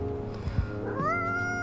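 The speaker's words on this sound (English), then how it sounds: "Are you sniffing me, kitty?" A stray cat without a collar in the café game Coffee Talk 2 lets out a single drawn-out, rising meow, close and clear over a soft, warm musical backdrop with no talking.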